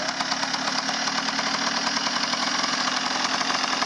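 A motorcycle engine runs steadily and loudly throughout as a beginner rider works the clutch and shifts gears, with a continuous rough, knocking idle and no voices heard.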